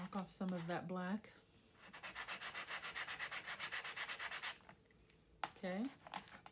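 A person speaks briefly, then quick rhythmic strokes of hand-sanding a paper piece rasp steadily for a few seconds before the voice returns.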